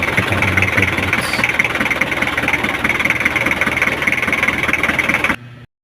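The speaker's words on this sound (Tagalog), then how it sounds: "pandarin natin yung makina ng mga 5 minutes lang mga paps" An Isuzu Elf truck engine idles steadily after an oil change, a close, continuous low rumble with a constant hum, cutting off abruptly near the end.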